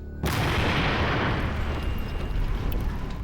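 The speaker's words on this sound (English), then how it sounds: "It was a great explosion." A great blast from an ancient ninja bomb attack leaves a big hole; a loud, sudden deep boom hits and then rolls on as a sustained rumbling roar with no voices.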